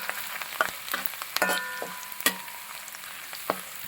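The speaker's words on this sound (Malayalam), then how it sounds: "നന്നായിട്ടൊന്ന് ഇളക്കി കൊടുക്കുക" Chopped garlic sizzles in a hot pan for a vegetable kurma while a spoon stirs it, giving steady frying hiss and scattered light clicks and scrapes, with a few sharper knocks, close up and no talking.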